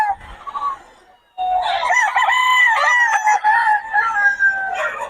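Young roosters, stags, crow loudly close by in long drawn-out calls, one crow breaking off before a fuller overlapping chorus follows with clucking underneath.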